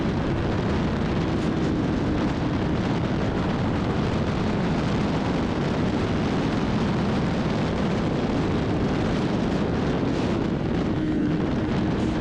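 A 2021 Kawasaki ZX-10R pulls hard in first gear, a loud, continuous engine roar swamped by heavy wind buffeting on the microphone for the whole stretch, with no talk.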